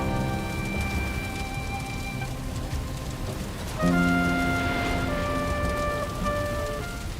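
Steady rain falls in the video game Valheim, a continuous broadband hiss with a denser, louder patch partway through. Sustained musical tones play over it.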